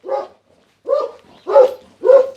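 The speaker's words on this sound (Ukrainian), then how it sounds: "О, бачите, який собака." A dog at a Ukrainian village homestead gives four loud, close barks in an uneven rhythm, each a short separate burst with brief pauses between, with no talk over them.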